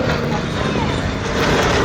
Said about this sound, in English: Listen to this. Whistle of death.